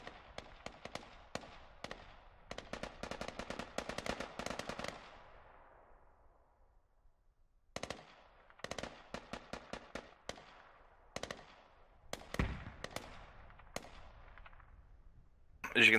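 Bursts of automatic gunfire in the military shooter game Squad, sharp rapid volleys in clusters separated by pauses, with one heavier blast near the end.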